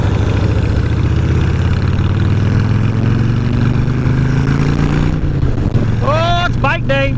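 Harley-Davidson Evo Sportster engine rumbling steadily while riding, a loud continuous low drone with rising pitch as it accelerates, with wind noise throughout and a brief shift near the end.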